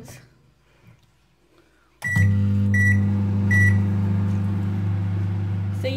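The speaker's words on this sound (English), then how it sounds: "So I'm just going to put the mug cake in the microwave now" A microwave oven cooks a mug cake. After a few faint sounds it starts with a click and runs with a loud, steady hum. Several short beeps come from the keypad near the start, and the hum continues steadily to the end.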